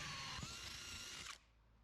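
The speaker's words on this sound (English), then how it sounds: "Pre-drilling the holes for the AC power." A power drill whines steadily while pre-drilling holes for roof brackets on a Rockwood camper roof rebuild, one continuous close burst lasting over a second before cutting off into quiet.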